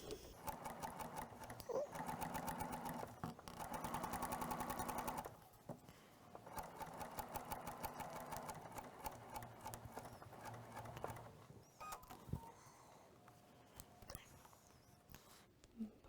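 A sewing machine stitching a quilting project in bursts of rapid needle clatter, pausing and restarting, with soft speech at times over and between the runs.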